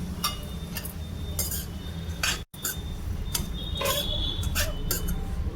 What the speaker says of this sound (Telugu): దీన్ని కూడా లో ఫ్లేమ్లో పెట్టుకొని బాగా ఫ్రై చేసుకోవాలి